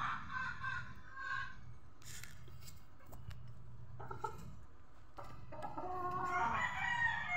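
Gamecock roosters crow repeatedly with clucks between, fairly close and loud over a low background rumble, several crows overlapping in bursts across the stretch.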